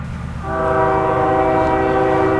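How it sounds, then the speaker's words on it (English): A train horn blares steadily and loudly over the low rumble of a passing freight grain train with pusher locomotives on the end, the tone holding without a break. "Here we see our pusher locomotives in action on the end of the train"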